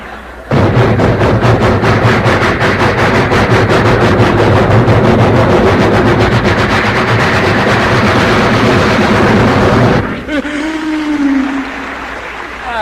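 A performer's voice imitates a long train with a loud, sustained, rumbling roar and a rapid chugging pulse running for about ten seconds, then trails off into a softer rushing sound. The performance is from 1963.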